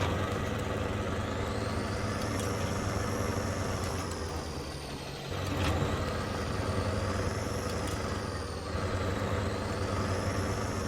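Handbrake release on a Cateye 6x6 truck in SnowRunner, a steady engine drone with a hissing air release near the middle, followed by the engine continuing at a constant level.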